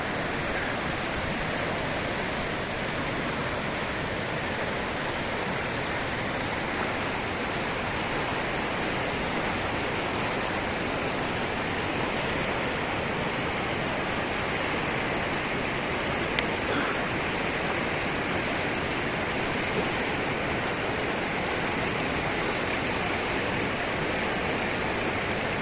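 Steady, loud roar of rushing water at Vadattupara waterfall during a monsoon flash flood, a dense broadband wash that holds constant and close for the whole stretch with no voices.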